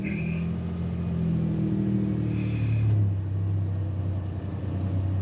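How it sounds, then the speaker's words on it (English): A Ford Ranger pickup truck engine that had a lean-condition fault, starting with a brief crank and then settling into a steady low idle rumble, close and fairly loud, with no speech over it. "I'm going to go ahead and start the truck"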